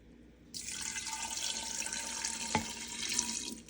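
Kombucha starter liquid is poured into a jar in a steady splashing stream lasting about three seconds, close and moderately loud, with no talking.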